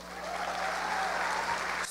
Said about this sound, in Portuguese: Agora você pode aplaudir.